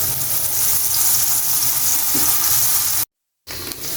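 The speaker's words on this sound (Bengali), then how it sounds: "তো এদিক দিয়ে আমি বেগুন ভেজে নেব এখন" Brinjal pieces fry in a pan, producing a loud, continuous close-up sizzle that cuts out for a moment near the end before resuming, with no speech.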